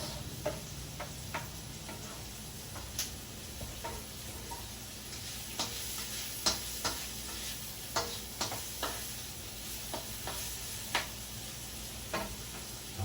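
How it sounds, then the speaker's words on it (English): Philly steak and cheese mac and cheese sizzling steadily in a pan as the cheese sauce heats and melts, a bright continuous hiss dotted with small pops and crackles, fairly quiet and close, with no talking. "You can hear the sizzle."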